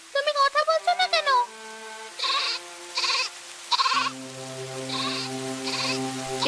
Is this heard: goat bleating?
yes